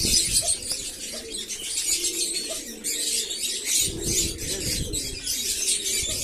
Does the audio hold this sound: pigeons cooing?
yes